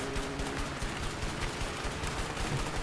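Cannon fire falls during a scene in the video game A Way Out, a quiet, dense run of repeated booms and bursts with no break.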